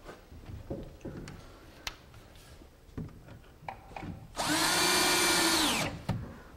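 A power drill drives Kreg pocket-hole screws into wooden trim, giving one loud sustained whir of under two seconds that slows at the end, after scattered soft knocks and handling noises nearby.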